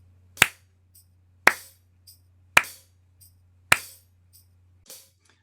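Sharp, evenly spaced claps in a steady quarter-note tempo, four crisp hits about a second apart followed by a softer fifth, each trailed by a faint echo over a low hum.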